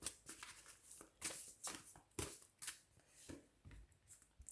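A deck of playing cards being shuffled at a tarot-style reading table, with repeated quick riffling bursts and soft flutters, close and fairly quiet, no talking.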